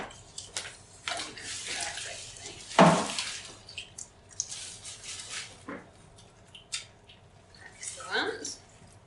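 Tap water runs and splashes over hands being scrubbed at a sink during a hand-washing demonstration, with irregular wet splashes, squishy rubbing and one louder gush, close by.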